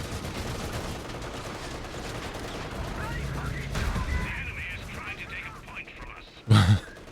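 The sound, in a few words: gunfire from units in the video game Company of Heroes 3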